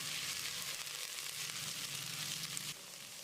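Sliced onions and chopped green chillies sauté in hot oil for vegetable pulao, a close, steady crackling sizzle that runs continuously and then drops slightly in level near the end.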